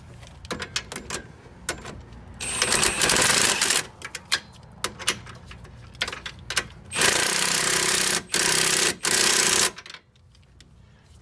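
An impact wrench tightens the camber kit bolt on a Dodge Charger, firing in several loud hammering bursts of a second or two with clanks and rattles between, close to the listener.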